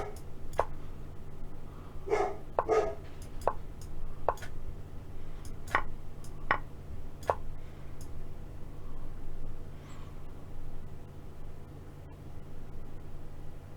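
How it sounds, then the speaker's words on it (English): A dog barks several times in the background in short, irregular bursts over a steady hiss, spread across the stretch and fairly faint, with no talking. "Dog barking"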